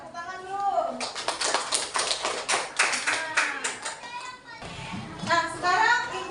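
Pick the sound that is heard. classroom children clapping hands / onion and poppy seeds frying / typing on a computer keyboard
classroom children clapping hands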